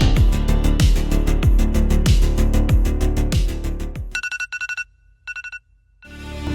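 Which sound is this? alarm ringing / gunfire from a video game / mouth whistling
alarm ringing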